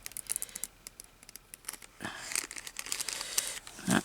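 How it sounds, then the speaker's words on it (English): Scissors snip through paper to cut out a square for a journal page, a run of short close crisp cuts and crinkles with uneven rhythm and a louder snip near the end. "I don't know if I can cut out a square"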